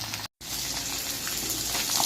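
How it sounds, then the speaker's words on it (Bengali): Tangra fish frying in hot oil with cornflour coating, a steady dense sizzle and crackle filling the whole stretch, close and even, broken only by a brief cut to silence near the start. "একে একে সব মাছ ভাজা হয়ে গেল"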